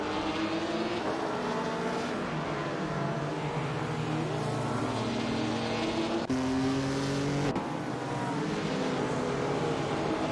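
Several 1950s sports car engines drone and whine together in an AI racing video game, overlapping sustained tones shifting in pitch as the cars race, loud and continuous with no talking.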